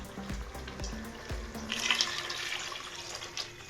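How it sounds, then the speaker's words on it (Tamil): Dissolved tamarind water poured into a simmering Sankara fish curry, a steady close splash of liquid with a few soft knocks of the vessel at the start. "ஸோ புளி கரைச்சிட்டேன், இதை ஊற்றிடலாம்."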